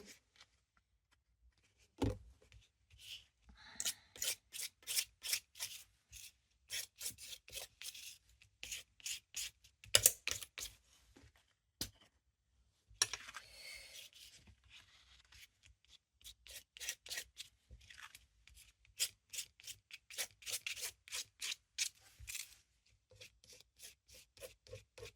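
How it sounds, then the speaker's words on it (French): Scraping paint across an art journal page gives repeated short rasping strokes in quick bursts, close and fairly quiet, with brief pauses between runs and no talking. "Pas que je gratte de trop, sinon ça va se colorer."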